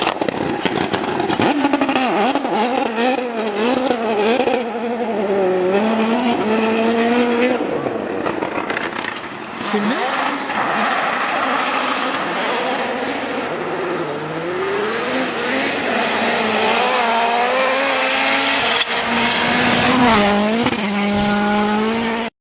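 Rally car at Rally Sweden in the World Rally Championship, engine note rising and falling loudly as it enters a corner too fast, slides wide and ploughs straight off, with revs surging and cutting near the end.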